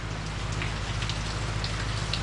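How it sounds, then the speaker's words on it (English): Steady rain falling on surfaces during a break in a stretch of 100-degree-plus heat at a shop, a dense, even patter of drops that stays constant and close throughout, with a low hum running underneath and no voices. "Finally, a break from the heat, getting some rain."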